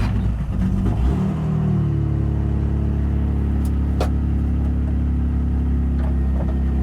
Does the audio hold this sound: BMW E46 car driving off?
yes